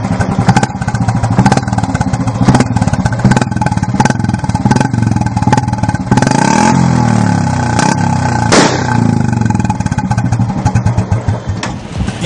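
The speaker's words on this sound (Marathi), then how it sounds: "फटाक्यांचा आवाज करणारी बाईक पोलिसांनी ताब्यात घेतलेली आहे" A Bullet motorcycle fitted with a loud modified silencer idles and revs close by, firing rapid sharp cracking pops like firecrackers in an uneven stuttering rhythm, with a longer rev swell midway.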